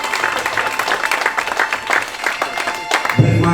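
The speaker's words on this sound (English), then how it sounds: "can we have a round of applause" Wedding guests applauding after reception speeches, a lively burst of clapping from a room of people, close and fairly loud, fading toward the end as a voice and music begin.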